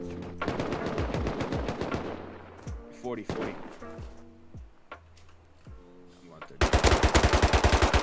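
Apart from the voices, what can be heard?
gunfire in the video game Rust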